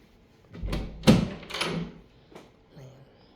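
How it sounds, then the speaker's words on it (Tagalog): A transparent glass door in a Macao hotel is handled, giving a few close knocks and thuds, with one sharper bump in the middle and softer clicks as it swings and settles shut. "Tapos pwede natin isara yan. Kasi po, kailangan may mga pinto yan."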